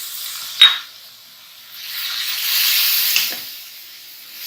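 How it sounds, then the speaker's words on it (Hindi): Garlic paste goes into a pan of homemade pizza sauce, with a sharp utensil clink followed by a soft rising sizzle and a second light tap near the end. "अब हम ये इसमें गार्लिक पेस्ट ऐड कर देंगे"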